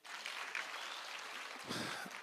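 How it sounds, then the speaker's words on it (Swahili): An audience at a public meeting claps for the governor, a short burst of moderately close, dense applause that swells again near the end. "pigieni Governor makofi"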